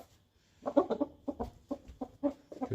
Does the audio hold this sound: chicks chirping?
yes